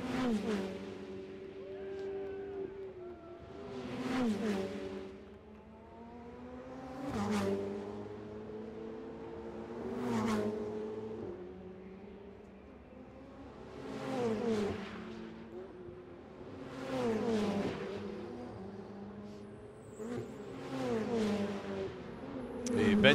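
Ferrari Challenge race cars lap the circuit at the Montreal race, with engines rising and falling as cars sweep past one after another at regular intervals, some near and loud, while a commentator talks over the track noise.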